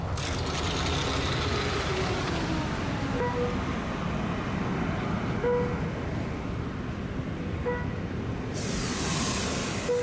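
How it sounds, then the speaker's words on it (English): Outside an Amtrak Capital Corridor train car, door-locator speakers give short, repeated chirps over a loud, steady rumble of train and platform noise. "notice the chirping noise made by the speakers on the outside of the car"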